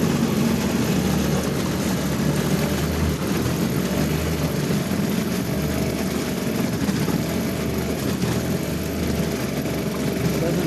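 A Yamaha Suzuki 2.5hp outboard motor runs steadily with its cover on, a constant droning engine hum with a buzzy propeller-like tone that holds an even level throughout, close by and without pauses.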